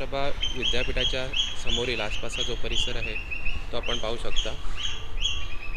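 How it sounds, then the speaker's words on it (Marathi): Birds chirp and tweet in the green, leafy grounds around a temple and Dnyanprabha Vidyapeeth, with bright short calls running throughout beneath someone speaking continuously. "पक्ष्यांचा किलबिलाड आपल्याला इथे ऐकायला येतो."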